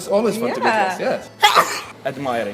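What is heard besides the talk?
sneeze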